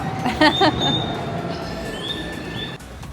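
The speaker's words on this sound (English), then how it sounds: "Catching the train to head over to Mitaka or to go to the Ghibli Museum." A commuter train in Japan heading toward Mitaka, heard from inside: steady rumbling wheel noise with thin high squeals and whistling tones rising and fading, then a sharp drop in the hum near the end, no talking.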